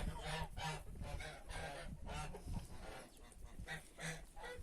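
Chickens clucking faintly in a farmyard, short repeated calls over a steady outdoor rumble.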